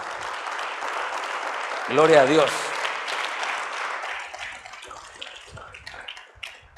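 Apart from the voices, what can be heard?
church congregation applause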